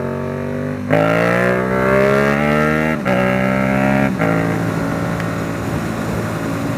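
A Triumph Speed Triple three-cylinder motorcycle on stock exhaust pipes revs up in several rising pulls, its smooth, loud engine note climbing in pitch, dropping back between shifts, then settling into a rougher idle.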